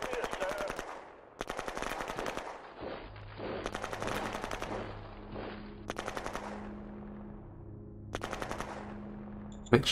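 Automatic weapons firing in the post-apocalyptic strategy game Shadow Empire: several loud bursts of rapid machine-gun fire in a staccato rhythm, separated by short pauses, with a low mechanical hum underneath and no voices.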